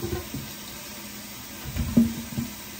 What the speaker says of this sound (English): I'm basically rinsing it to help clean it off a little bit better.